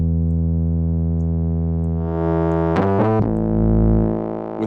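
A synthesized tone from the free Kult distortion plug-in sustains as a buzzy, harmonically rich drone, then stutters into a gritty, choppy burst of distortion before settling into a louder, rougher tone.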